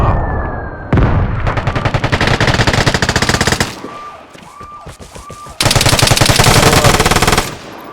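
Rapid bursts of automatic gunfire and booming mortar explosions in the online shooter Vigor, loud and close, with long sustained volleys broken by a brief quieter gap with a rising whine before another heavy burst.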